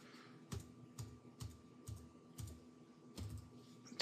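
Typing on a computer keyboard in a quiet room, a few close, faint clusters of key clicks coming in a roughly regular rhythm about every half second, with no talk.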